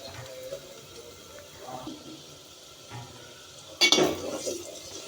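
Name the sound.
stirring fish curry spices in a pan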